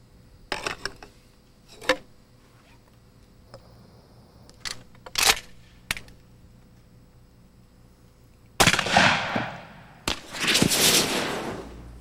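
Shotgun flare and smoke specialty rounds fire as a handful of separate sharp reports over several seconds, some faint and distant, ending in two louder blasts followed by a hissing, rushing tail.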